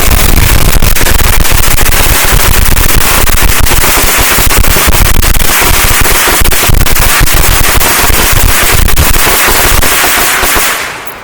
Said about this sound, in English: This is like 500 firecrackers.